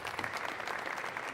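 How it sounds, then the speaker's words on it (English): An audience at a Turning Stone Classic pool match gives a big round of applause, steady dense clapping heard up close and alone throughout. "Gets a big clap from the audience."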